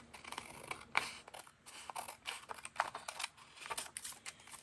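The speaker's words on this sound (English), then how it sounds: "now I'm just going to cut around that little card that I glued down" Scissors snip around a small paper card glued onto an old book page, making a close, quiet run of repeated crisp cuts in an uneven rhythm with short pauses between bursts.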